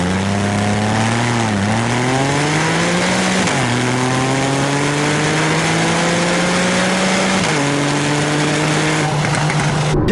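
A 2012 Porsche 911 Carrera S with PDK dual-clutch transmission launches hard from a standstill, its engine note climbing steeply through several quick upshifts, each marked by a brief dip before rising again, loud and continuous from inside the car.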